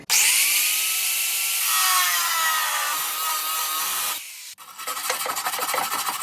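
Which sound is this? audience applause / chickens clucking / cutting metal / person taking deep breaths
cutting metal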